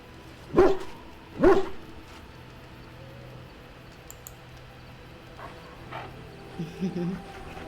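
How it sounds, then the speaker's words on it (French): A dog gives two loud, sharp barks close by, then faint whimpers and soft whines trail off near the end over a low background hum. "Ah, mon chien."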